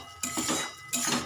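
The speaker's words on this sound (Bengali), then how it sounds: "এবার একটু নেড়ে দেব।" Egg and onion with vegetables stirred in a pan for egg veg rice, two bursts of metal utensil scraping and clinking against the cookware, close and clear with no talk.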